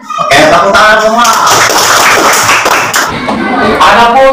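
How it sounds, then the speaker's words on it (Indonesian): Classroom students clap together in a dense burst of applause, loud and close, with voices mixed in throughout. "Oke, tepuk tangan semua."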